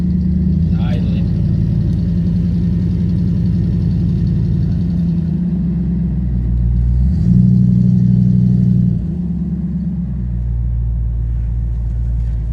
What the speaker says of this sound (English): It's idling.